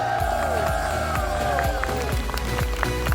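Applause and cheering for a newly married couple at a wedding ceremony, loud continuous clapping with crowd noise, while music with sliding melodic tones plays along underneath.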